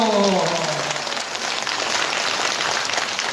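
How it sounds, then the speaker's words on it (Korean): A hall full of people at a senior employment center job-training event in Incheon breaks into steady, dense applause, a voice briefly audible at the start before the clapping carries on alone. "뜨겁게 박수 한번 쳐드리십시오"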